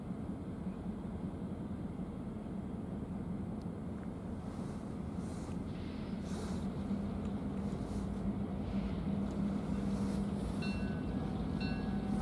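CN freight train 568 pulling away westbound in winter, a steady low rumble and clatter of rolling railcars heard at moderate distance and holding level throughout.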